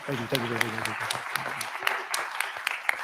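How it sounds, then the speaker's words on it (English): Scattered applause from a small press-scrum audience after a wrestling event, sharp individual claps popping over a voice talking up close, loose and uneven rather than a full ovation. "Can we clap again? Like one more time?"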